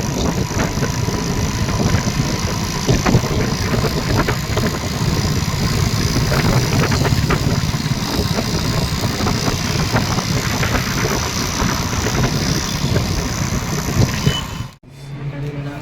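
A Honda vehicle's engine idles close by with a loud, steady rumble and faint knocking vibration that runs for about fifteen seconds before cutting off abruptly.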